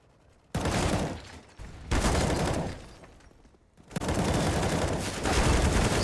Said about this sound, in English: Really nice shooting